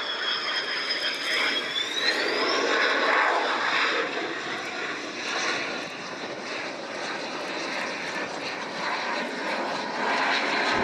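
A display team jet in slow flight at the Royal International Air Tattoo, its engines giving a loud continuous roar with a rising whine early on, holding steady as it passes.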